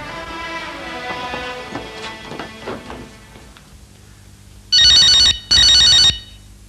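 A telephone rings twice in loud, shrill electronic bursts after a stretch of soft tonal background sound; the rings are close and evenly spaced.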